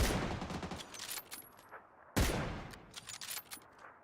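Bursts of gunfire in a video game firefight: a rattling volley at the start, then a sharp loud shot followed by scattered quieter pops, with moderate level throughout.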